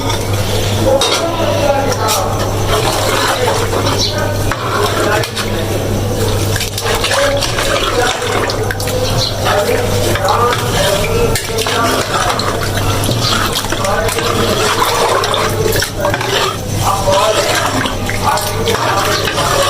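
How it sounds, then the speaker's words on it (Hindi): Water runs and splashes into a metal cooking pot for kadhi, a loud, steady close-up gush with clinks of the pot and utensils throughout. "ये पहले मैं पानी डालूँ फिर आपको दिखाऊँ।"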